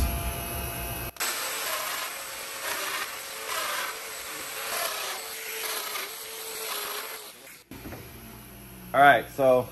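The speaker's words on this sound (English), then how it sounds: "We'll turn on our vacuum." A vacuum pump for workholding in a woodworking shop runs with a steady mains-like hum and airy rush for several seconds, then cuts off abruptly, followed by a brief voice.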